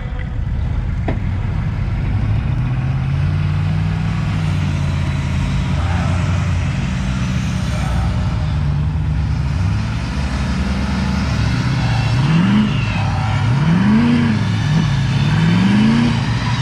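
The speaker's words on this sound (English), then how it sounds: "I got a dually here and then another Ford, both diesels gonna pull us out" Two Ford diesel pickups, one a dually, rev hard while trying to pull a stuck dump truck free. A loud, continuous engine drone runs throughout, with rising and falling revving surges near the end.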